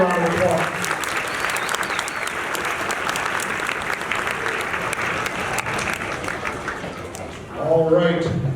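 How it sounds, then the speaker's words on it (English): Audience at a fifth grade band concert claps steadily for several seconds, a dense even wash of applause from a full room, swelling slightly near the end as a voice begins over it. "Let's give them a round of applause."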